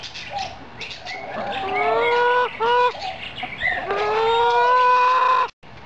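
Hen at a garden fence making loud, drawn-out whining cries in repeated rising calls, close and clear, cut off abruptly near the end.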